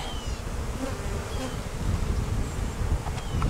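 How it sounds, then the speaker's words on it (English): Bees buzz around hive frames at a small airport in South Houston on a warm January day, a dense continuous droning hum close up with individual insects flitting past. "Very nice bees."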